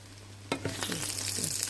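Egg with sesbania flowers is frying in a pan, and a sudden close, crackling sizzle bursts out and keeps spitting over a low steady hum.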